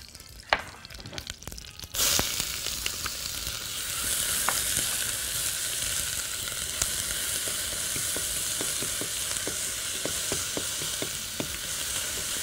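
Onions and garlic frying in ghee or oil in a pot, a steady bright sizzle after a few soft knocks at the start, with scattered crackles and pops throughout, no talking.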